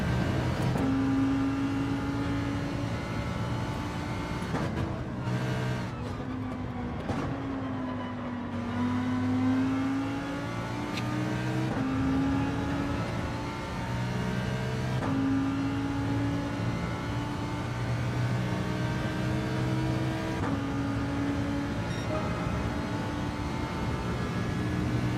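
A race car engine in the Gran Turismo 7 racing game at Bathurst, holding a loud, steady high-revving drone with rising and falling pitch through gear shifts, close and continuous, with no voices.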